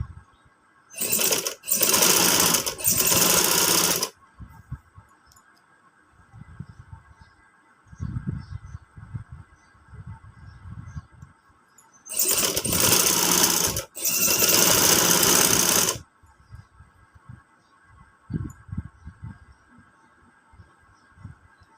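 A sewing machine stitching along the edge of a fabric strap runs in two loud bursts of rapid whirring, each a few seconds long and briefly paused, with quieter handling and shuffling sounds between.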